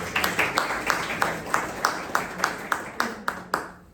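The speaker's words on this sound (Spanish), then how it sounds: "a todos aplausos" Rhythmic clapping from a small class during an art fundamentals lesson: evenly spaced, sharp claps in a steady beat, fairly faint and close, fading at the end.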